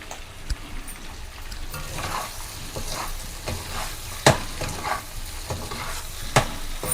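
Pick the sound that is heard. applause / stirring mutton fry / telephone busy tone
stirring mutton fry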